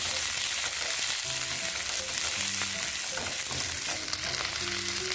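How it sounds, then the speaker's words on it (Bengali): Cauliflower pieces frying with onion and garlic in a pan for chana dal with prawn, giving a steady close sizzle with occasional stirring scrapes and no voices. "ফুলকপির টুকরোগুলোকে দিয়ে এটা একটু ভেজে নেব।"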